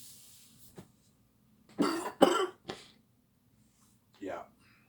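A few harsh, close coughs in quick succession, followed after a pause by a rough throat-clearing sound.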